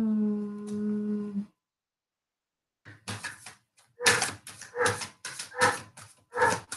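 A dog barks indoors, a cluster of sharp, fairly close barks in quick succession after a moment of quiet, following a brief voice at the start.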